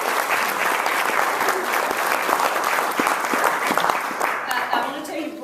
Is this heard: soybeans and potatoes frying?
no